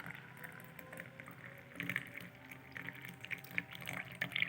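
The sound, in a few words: blue butterfly pea tea being strained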